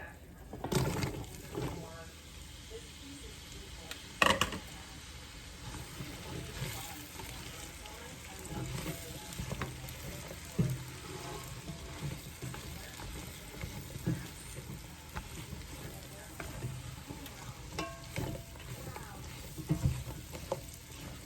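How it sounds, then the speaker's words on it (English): Mushrooms sautéing in a pan make a steady, soft sizzle broken by irregular spatula scrapes and taps. The sound stays close and fairly quiet throughout, with faint talk at times. "right now, we're gonna saute some mushrooms"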